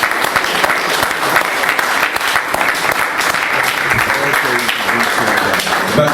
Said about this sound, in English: give our brother Leroy 23X, a man who was there, a round of applause for his interview